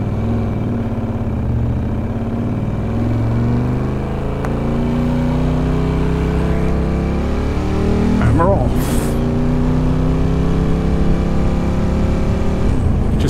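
A Ducati 916 motorcycle engine idles and then revs as the bike is put into gear, with a sharp throttle blip and rising pitch partway through, loud and close throughout, with wind rush and no voices.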